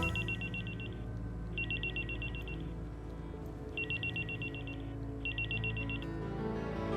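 Telephone rings in four bursts of rapid electronic trilling, two close pairs separated by a short pause, fairly quiet over a low background hum.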